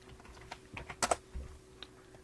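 Keys and a mouse click repeatedly during drafting work in CAD software. A handful of quiet, sharp taps come close together in an irregular rhythm, with a brighter double click near the middle, over a faint steady hum.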